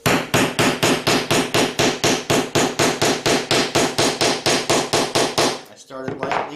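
A metal rivet on a leather knife sheath being struck with a hammer in a steady run of about twenty close, evenly spaced blows, the pace brisk and constant before the hammering stops near the end.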